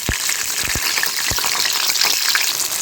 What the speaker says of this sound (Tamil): நம்ம கீறி வச்சுருக்க பச்சை மிளகாவை நம்ம இதில் சேர்த்துக்கலாம்